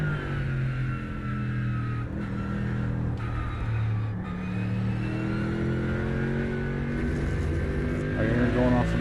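A simulated race car engine in the iRacing game drones and shifts pitch in layered harmonic tones, revving up and down at a steady, moderate level across the whole stretch.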